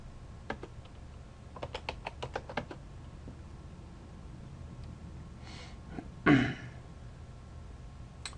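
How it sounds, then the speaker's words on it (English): Keys tapped on a computer keyboard while entering an exit command to log out of a router, a short burst of quiet clicks in a row, then a brief louder noise against a low room hum. "Log out of the router by typing exit command twice."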